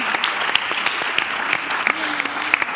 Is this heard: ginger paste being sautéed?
no